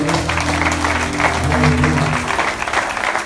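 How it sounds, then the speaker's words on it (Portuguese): A church congregation at a leaders' dinner applauds in a sustained, dense burst of clapping over held music, fading slightly near the end. "Você pode aplaudir o Senhor em nome de Jesus."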